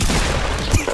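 Gunshots ring out in the Fortnite video game, a short dense burst of loud, close firing filling about a second, with no talk over it.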